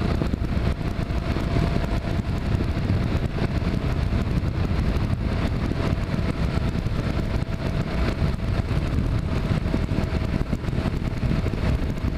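A steady engine drone with heavy wind rush runs unbroken while cruising in gear on a test ride after a valve adjustment, loud and constant throughout with no speech.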